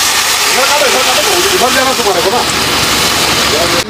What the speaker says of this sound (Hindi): मसाला भुजा गया पानी डाल रहे हैं